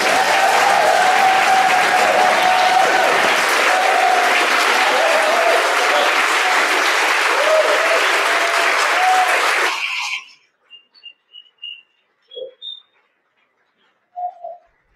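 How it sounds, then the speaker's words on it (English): Loud, sustained audience applause for the 12 poets at the All-Ireland Poetry Slam Championship final, filling the room for about ten seconds before cutting off, followed by a few faint bird coos and chirps in near silence. "Please, let's have it for the 12 poets."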